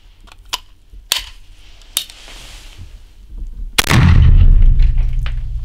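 A shotgun firing buckshot at a target 9 metres away, heard as a single loud, sharp blast followed by a heavy, rumbling boom and echo. Fainter clicks and knocks of handling come before the shot.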